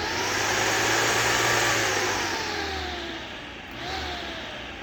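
Yamaha Raptor 700R ATV running with a handmade replacement cooling fan spinning, a loud steady whooshing drone with engine hum that eases slightly, then swells briefly before settling, no one talking.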